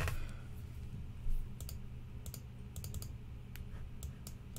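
Quiet, irregular keystrokes clatter on a computer keyboard while someone types; the clicks come in short bursts with gaps, and no one talks.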